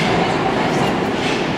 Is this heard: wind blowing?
no